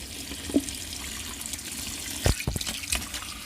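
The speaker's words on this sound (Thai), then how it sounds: "ส่วนปลาที่เขาแช่น้ำเกลือแล้ววันนี้เขาเอามาล้างเลยจ้ะล้างให้สะอาดเลยจ้ะ" Brine-soaked mackerel being rinsed clean in water, with soft splashing and trickling, a few louder sloshes near the end, close and with no talking.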